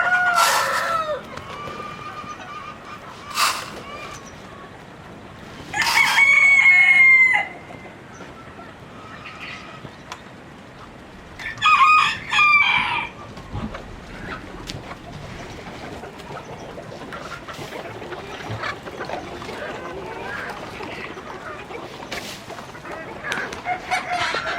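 Chickens and roosters in a coop cluck and crow. Several loud crows and squawks stand out above a steady background of softer clucking and rustling.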